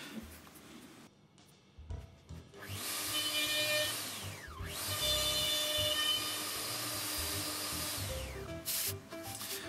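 Power sanding of wooden box parts joined with a router, a steady abrasive whirring and rubbing that runs continuously after some brief handling at the start.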